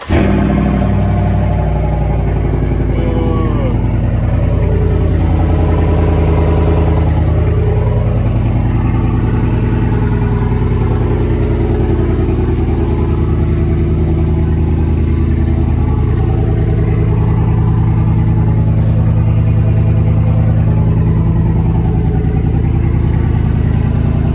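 A 2021 Chevrolet Silverado Trail Boss pickup with a Dirt King long-travel kit and its exhaust pulled runs loud and steady, with a deep, raw engine note swelling through several revs across the whole stretch and no talking.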